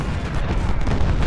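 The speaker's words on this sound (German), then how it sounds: "die Kanonen" Booming cannon artillery fire from the Civil War strategy game Ultimate General: Civil War, a loud, dense rumbling blast filling the whole moment with no talk over it.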